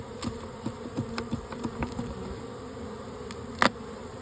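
Honeybees buzzing at an open hive during an inspection, a steady insect drone with small bursts as bees take off, plus a sharp louder rise near the end when more of them are disturbed.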